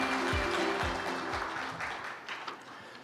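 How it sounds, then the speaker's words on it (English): Conference audience applause at the Korea Maritime Week forum, a broad steady wash of clapping that slowly fades, with low tonal music or hum sliding underneath in the first half. "please welcome him with a huge round of applause"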